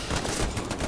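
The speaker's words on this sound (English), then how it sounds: "Jay Dunce gets strafed." Dense strafing fire in the Hell Let Loose battlefield game, a brief, continuous roar of overlapping shots and rumble at steady close volume.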